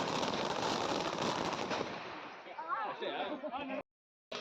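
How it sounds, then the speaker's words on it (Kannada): A rapid string of firecrackers bursts at a village gate during a Basava Jayanti cattle procession, a dense crackling barrage for about two seconds that then thins out as voices rise nearby. "ಫೈನಲಿ ಪಟಾಕಿ ಹೊಡೆದಿದ್ದಂತೂ ಆಯಿತು."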